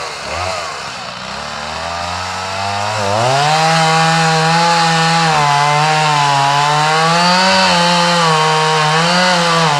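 A chainsaw roars close by while felling a tree, its engine climbing from a rough idle to a sustained high-pitched buzz as it bites steadily into the trunk.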